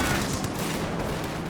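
Light machine gun fire from Grenadiers in Company of Heroes 2 forms a steady dense rattle of shots, busy and mid-distance, continuing throughout without any voices.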